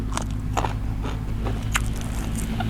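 Close biting and chewing of cooked nham, Thai fermented pork, with several crisp crunches spaced across a short stretch over a steady low hum.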